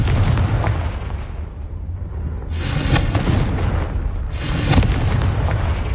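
The Confringo fire-blast spell in Hogwarts Legacy erupts in heavy, rumbling explosions: a deep boom that fades, then a second loud burst around the midpoint, and another swell near the end, loud and close with no voices.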